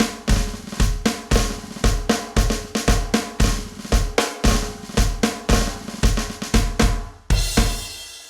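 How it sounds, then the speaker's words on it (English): A drum kit plays a basic 2/4 march beat, a steady driving bass drum with snare strokes in an even, repeating rhythm, close and alone, ending on a cymbal crash. "How to play a basic 2/4 march on the drum kit."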